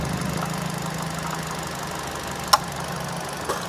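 A 2011 Kia New Picanto SE3 automatic engine idles smoothly with a steady low hum, broken only by a sharp click partway through and a faint tap shortly after.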